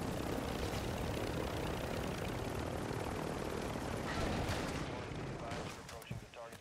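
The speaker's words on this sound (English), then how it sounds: "I might lose the helicopter now." A helicopter in the video game DMZ roars steadily and loudly close overhead, a dense continuous rotor and engine wash that fades slightly toward the end.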